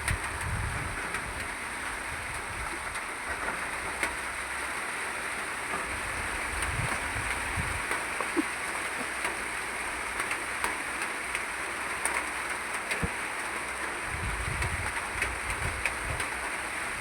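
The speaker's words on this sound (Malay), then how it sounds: "Harap hujan ini tidak lama ya" Rain falls steadily across a hillside oil palm plantation in a soft, continuous patter with occasional faint low rumbles underneath and no talking.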